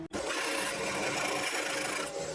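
A drill bit of English-made imperial size boring through a pre-drilled pilot hole, giving a steady, close grinding rasp that runs continuously for about two seconds after a brief start.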